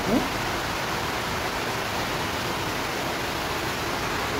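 Steady, even patter of light rain falling outdoors, a continuous soft hiss with no breaks across the whole stretch.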